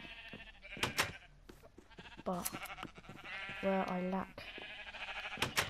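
Minecraft sheep on PlayStation 4 bleat several times at close range, with short cries and a couple of longer wavering ones spread across the clip. Someone talks briefly over them.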